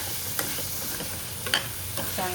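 Kantola (spiny gourd) vegetable stirred in a pan over a raised gas flame, a constant soft sizzle with a few light spatula taps and scrapes.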